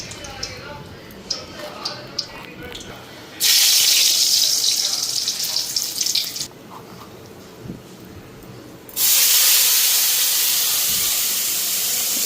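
Leafy greens, salted beforehand to draw out water, dropped into a hot pan in a home kitchen, giving two sudden loud bursts of broadband steam hiss and sizzle after quieter clatter, with brief talk nearby.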